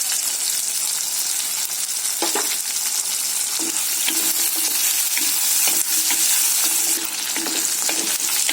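Onions and garlic cloves sauté in a pan for a Tamil vathal kulambu, giving a constant loud sizzle with intermittent scraping strokes of a stirring utensil, close up and without speech.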